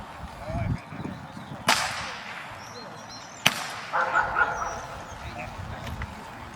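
Two sharp gunshots crack out several seconds apart during a dog test at a male dog show in Tampere, each loud and brief against a murmur of outdoor background sound.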